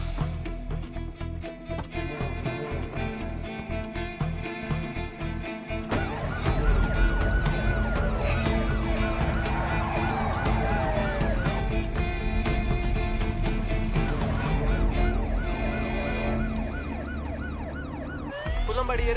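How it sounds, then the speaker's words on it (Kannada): Ambulance siren wailing steadily and loudly for the whole stretch, mixed with traffic noise and a dense background bed, continuous with no pause. "ಕುಲ್ಲಂಬಾಡಿ ಏರಿಯಾದಲ್ಲಿ ಒಂದು ಆಂಬ್ಯುಲೆನ್ಸ್ ತುಂಬಾ ಹೊತ್ತಿಂದ ಓಡಾಡ್ತಿದೆ"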